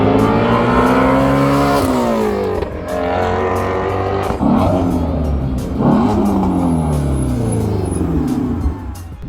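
The 5.2-liter flat-plane crank V8 of a Shelby GT350 revs hard several times, its note sweeping up and down in loud, close bursts with brief drops between rises.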